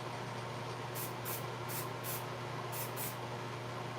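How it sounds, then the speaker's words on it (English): Spray paint spritzed onto glass in short hissing bursts, about six quick sprays in two groups over a low steady hum. "Nice little spritz, and now we have it painted up"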